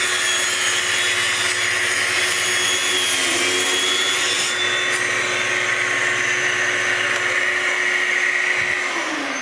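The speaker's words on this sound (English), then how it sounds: "So we're going to turn on our vacuum." A shop vacuum runs loudly and steadily beside a Proxxon saw cutting wood, a constant close whine and roar with a faint grinding saw tone underneath that drops away near the end.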